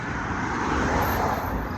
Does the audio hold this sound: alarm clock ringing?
no